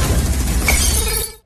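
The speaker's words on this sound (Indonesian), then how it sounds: "Hanuman melempar Goli hingga tangan Goli terluka oleh pecahan botol." Glass bottle shattering in a film fight scene, a sharp bright crash over a loud, dense movie soundtrack that cuts off abruptly at the end.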